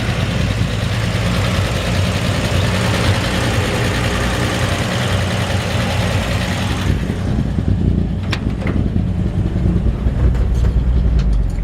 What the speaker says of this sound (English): Great running engine. The old Thriftmaster 235.